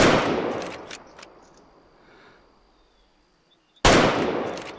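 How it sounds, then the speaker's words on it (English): Rifle shots fired at a target in the hunting video game Way of the Hunter: two loud, close gunshots, the first decaying in a long fading echo before the second sharp blast. "I'm just going to show you just a basic grouping here of just shooting right, right on the bullseye"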